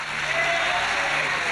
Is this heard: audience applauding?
yes